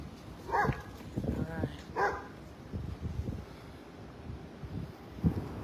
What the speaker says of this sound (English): That dog is ready to nip.